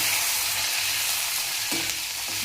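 Curry leaves frying in a pan, giving a steady close sizzle with light crackling and a faint stir near the end, no voices.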